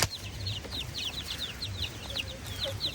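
Several chickens clucking in a yard, rapid repeated clucks and short calls close by over low background rumble, with no talk.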